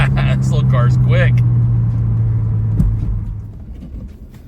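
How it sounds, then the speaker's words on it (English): Engine of a 1986 Mazda 626 GT Turbo Coupe with a five-speed manual, pulling hard as it accelerates: a loud, steady low drone that fades toward the end, with a person talking over the start. "This little car's quick."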